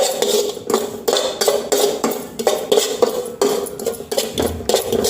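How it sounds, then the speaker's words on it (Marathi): Poppy seeds dry-roasting in a pan over a low flame come across as steady, close scraping and clinking of a spatula against the pan, in quick repeated strokes with no talking. "मंद आचेवर खसखस भाजून घ्यायची."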